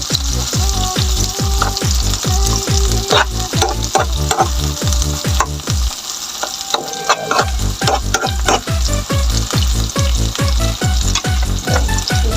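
Onions fry for igado in a pan, sizzling loudly and continuously up close, with a regular rhythmic ticking or stirring pulse running through the whole stretch and a brief dip partway.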